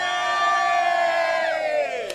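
A running crew cheering at the Big Half half marathon in London, a loud sustained group shout and whoop from many voices close by, rising and falling together.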